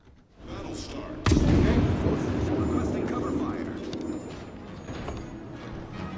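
A warship's main guns fire in the game World of Warships: one sudden heavy blast, then a long rolling boom and rumble that slowly fades beneath ongoing battle noise.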